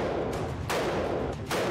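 AR-15 rifle shots fired at a range, two loud sharp reports about a second apart over a dense, steady background.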